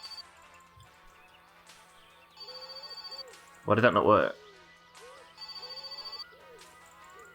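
A telephone rings repeatedly in the car-building video game My Summer Car, with evenly spaced ring bursts and a loud crash in the middle, and someone talks over it.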